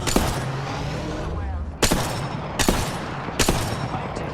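Gunfire in Apex Legends, with a steady rattle of automatic shots broken by several loud sharp cracks spaced about a second apart, close and dense.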